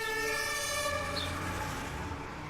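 A fire engine siren wails steadily and loudly, its rising and falling tones carrying over rumbling traffic as the truck arrives at a fire, with no voices.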